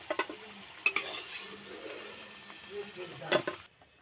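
Flower-shaped phool pitha fry in hot oil with a soft, low sizzle, broken by a few sharp clinks of a utensil against the pan near the start and again toward the end.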